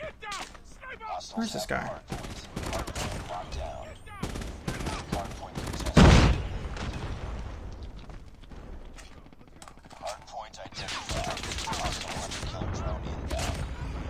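Swordfish burst rifle in Call of Duty Mobile firing repeated rapid three-round bursts amid other gunfire and game sounds, with someone talking over the action.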